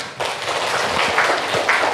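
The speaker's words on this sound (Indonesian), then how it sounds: "Terima kasih Dera, tepuk tangan." A school class applauds a student in a classroom, a steady, fairly loud burst of many hands clapping together for about two seconds with no talk over it.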